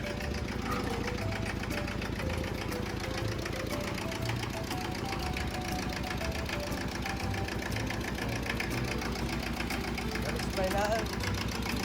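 An engine idles with a steady knocking rumble throughout, heard up close, with voices talking over it.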